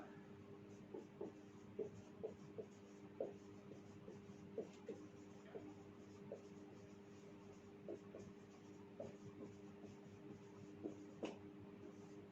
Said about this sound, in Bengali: আমি লিখে দিচ্ছি এক্সাম্পলটা